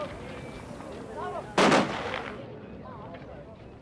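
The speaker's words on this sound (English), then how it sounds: "Three masked men stepped forward and obeyed orders in Irish to fire a three-volley" A three-volley rifle salute fired by masked men at a funeral, heard as one sharp, loud outdoor crack followed by a brief echoing decay, set against crowd ambience with faint voices.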